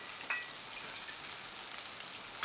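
Glass noodles with cha-om and shrimp stir-fried in a pan, giving a steady, close hiss of sizzling oil with a few faint clicks of the utensil and no talking.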